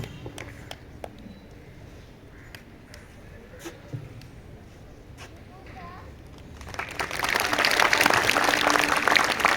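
An audience applauds at a school Children's Day celebration: quiet room noise with scattered taps, then a dense, loud wave of clapping swells in and keeps going to the end.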